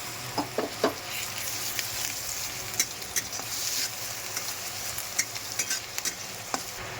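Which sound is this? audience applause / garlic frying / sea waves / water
garlic frying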